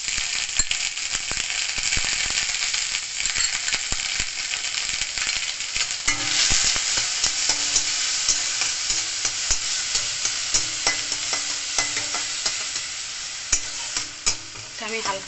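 Grated coconut with a dried chilli frying lightly in a pan, with a steady sizzle and frequent scraping, clicking stirs from a spatula that grow sharper toward the end.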